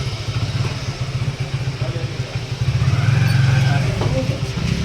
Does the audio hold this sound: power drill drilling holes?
no